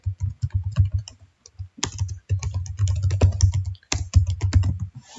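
Rapid keystrokes on a computer keyboard, fast irregular clicking in bursts with brief pauses, close and clear with no talking.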